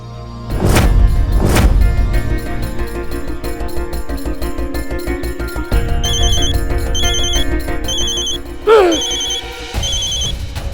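A phone ringtone plays loudly and steadily, a repeating electronic melody with bright bell-like tones, continuing for several seconds without talk.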